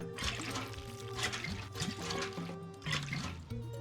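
Water poured from a 2-liter bottle into an outdoor animal trough in Project Zomboid, a steady splashing pour running continuously at moderate level, with faint background game ambience beneath.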